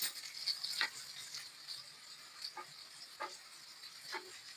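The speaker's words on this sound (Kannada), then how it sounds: "ಒಟ್ಟಿಗೆ ಫ್ರೈ ಆಗ್ಬೇಕದು. ಎಲ್ಲ ಒಟ್ಟಿಗೆ ಫ್ರೈ ಆಗ್ತದೆ." A single sliced onion fries in about three spoons of hot oil in a pan, making a faint, soft sizzle broken by a few light scraping clicks.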